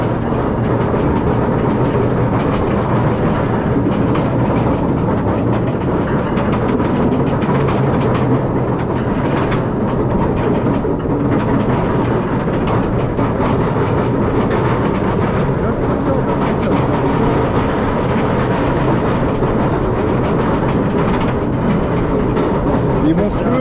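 The Griffon roller coaster train at Busch Gardens Williamsburg rumbles and clatters along its track in a steady, loud roar lasting over twenty seconds, with riders' voices mixed in.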